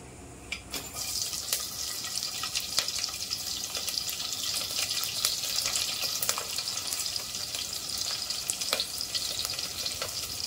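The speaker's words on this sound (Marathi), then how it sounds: "मोहरी तडतडली आता मिरची टाकूया" Chillies tipped into a pan of crackling mustard seed tempering for a jackfruit curry, giving a steady loud sizzle with scattered sharp pops and spits throughout, no voices.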